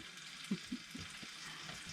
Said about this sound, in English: Cooking a sizzling steak in a field.